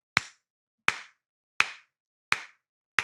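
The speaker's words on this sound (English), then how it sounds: "What you hear, if you're listening, is just a slow clap for the show" A single person gives a deliberate slow clap: five sharp, close, evenly spaced claps about seven-tenths of a second apart, with silence between them.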